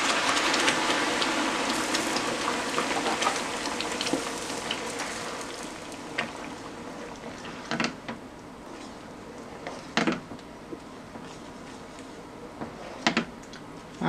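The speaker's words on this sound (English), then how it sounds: "Now I'm going to add my vegetables that I blended." Blended vegetables frying in a spicy fish palm oil stew, a steady close sizzle with a few sharp crackles and pops throughout.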